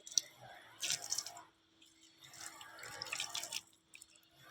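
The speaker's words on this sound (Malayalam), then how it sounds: "അവൾ വെള്ളം നനയ്ക്കുന്നു." A person watering newly planted garden plants makes faint, intermittent splashes and drips in two soft bursts separated by a quiet pause.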